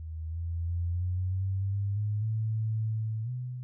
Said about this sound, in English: using a test tone, we ascertain that the line saturation introduces very moderate second harmonic distortion